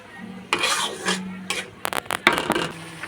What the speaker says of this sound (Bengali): এখন একটু নাড়াচাড়া দিয়ে ঢেকে রাখবো